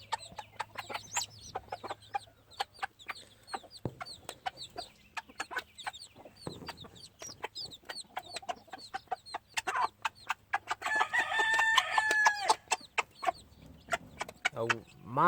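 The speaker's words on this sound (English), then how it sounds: "Oh, Mama hen loves that egg." Gamefowl chickens on a farm, a hen clucking among them, with many close, sharp clucks and chirps in irregular bursts and one louder squawking stretch, over faint low background hum.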